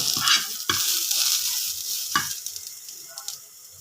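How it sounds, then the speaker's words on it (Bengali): Onions fry and sizzle in a pan, browning for a dried mola fish chutney, with steady hiss and a few sharp scrapes of stirring; no voices. "পেঁয়াজগুলো হালকা ব্রাউন কালার করে ভেজে নেব।"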